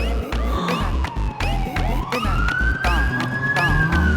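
An ambulance siren in a Tamil film scene wails loudly and close by, its pitch sweeping up and down over rumbling traffic and a busy street, with voices mixed in.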